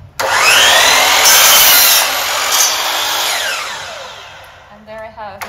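A hand saw cuts through a wooden board for a 40 inch side of a canvas stretcher frame, giving continuous loud rasping strokes that fade out near the end of the cut.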